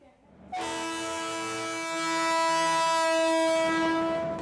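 A Korean high-speed bullet train running with a loud, steady horn-like tone that starts abruptly, holds and swells slightly over several seconds, with a rumbling rail noise beneath.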